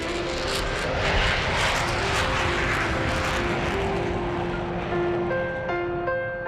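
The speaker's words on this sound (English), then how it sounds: "It's a beautiful looking plane." A propeller airplane engine drones loud and steady, a dense roar holding for several seconds with faint shifting tones, with no talk over it.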